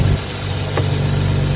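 Car engine idling steadily after a fresh install of new coil packs and spark plugs, a low, even hum running throughout with one brief tick near the middle.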